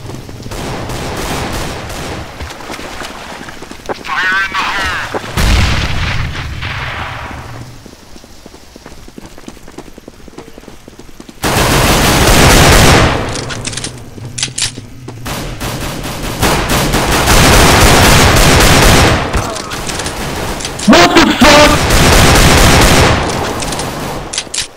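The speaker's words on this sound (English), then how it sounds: "It's rude to shoot someone when they're planting a bomb." Gunfire in Counter-Strike: GO on the Aztec map, with loud bursts of automatic and rapid shots in several clusters separated by quieter stretches with rain-like ambience.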